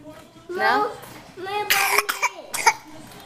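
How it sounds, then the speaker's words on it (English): A child at a birthday party gives a few sharp, close coughs in a short burst, after children's voices talking and singing just before. "Coughing."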